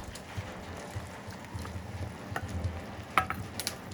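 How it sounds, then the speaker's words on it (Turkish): Soft, steady sizzling and bubbling of food cooking, with occasional light clinks and taps, fairly quiet and close. "Kaynıyor da kaynıyor."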